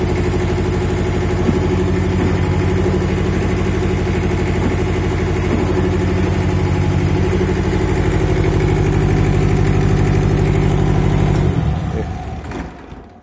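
A diesel Iseki garden tractor lawn mower engine idles steadily with a low, even chugging throb, loud and close, running alone with no talk before it cuts out near the end.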